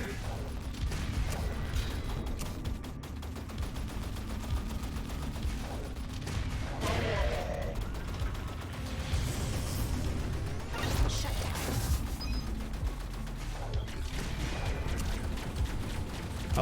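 A cannon fires in the twin-stick shooter Assault Android Cactus+. Heavy booms, crashes and whooshes mix with rapid gunfire in dense, continuous arcade combat at moderate loudness.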